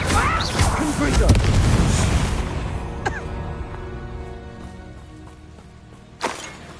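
Confringo spell in a Harry Potter video game bursting into a loud booming explosion, then a crash that fades, with a sharp pop near the end.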